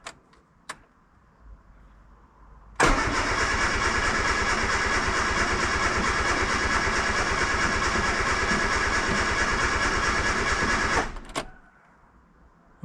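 A car that has sat unused for two months, with choke pulled and clutch in, cranks with a loud steady starter whir for about eight seconds without catching. Quiet background sound comes before and after the cranking.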